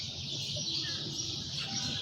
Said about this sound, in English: It's a beautiful evening, and the birds are out.